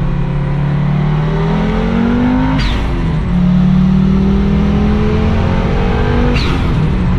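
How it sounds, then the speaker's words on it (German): A green 600 hp Audi Sport quattro accelerates hard, its engine note climbing through two gear changes with brief breaks, loud and close, no speech. "Ich gebe noch ein bisschen Gas für euch, Erlebnis und Emotionen."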